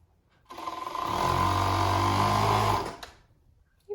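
Sewing machine stitching winter pajamas in one continuous run of about two seconds, starting and stopping abruptly, close and clear, with quiet handling before and after.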